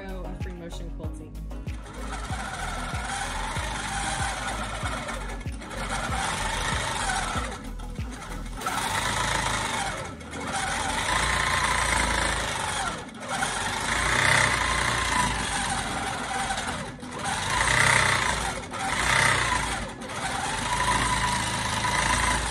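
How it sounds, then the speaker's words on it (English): A long-arm quilting machine stitching free motion quilting runs with a steady, close mechanical whir and rapid needle chatter. It dips and pauses briefly several times as the pace changes. "now I'm ready to start my third row of free motion quilting"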